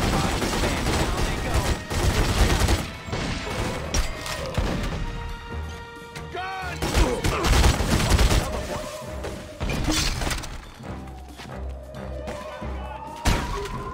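Gunfire in the video game The Godfather 2, a dense, continuous exchange of shots and crashing impacts through a chaotic shootout, with repeated bursts and a few sharp louder blasts, while voices talk over it.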